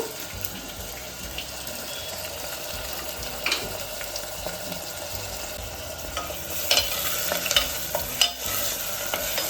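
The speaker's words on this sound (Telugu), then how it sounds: "పచ్చిమిర్చి కూడా యాడ్ చేశాను కలుపుకుందాం ఇప్పుడు" Green chillies being stirred into a pot of country chicken curry alongside onions and tomatoes, a steady soft scraping and low sizzle running throughout, with a few sharper utensil knocks toward the end.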